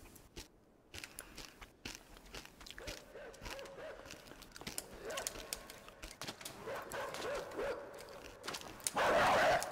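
A dog attacking the player in the video game Inside growls and bites with crunchy snapping, building to a loud, harsh burst at the end, with faint sounds scattered throughout.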